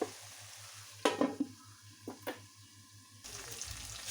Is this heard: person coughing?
no